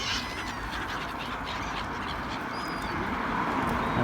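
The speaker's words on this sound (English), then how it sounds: "quite a variety of different ducks here as well" Ducks quack and chatter amid a steady outdoor din, with occasional higher bird chirps drifting in; no single call stands out strongly.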